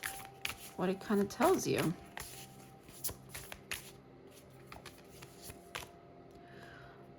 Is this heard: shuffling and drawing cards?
yes